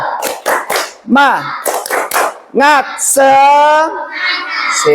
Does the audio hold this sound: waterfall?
no